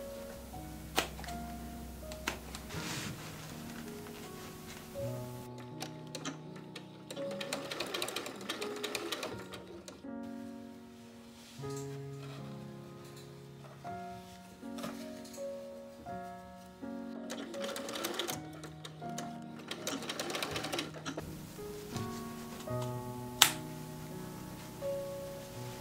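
A sewing machine stitches a corset for a travel dress in several rapid, rattling bursts separated by pauses, close by and fairly quiet with a faint background hum.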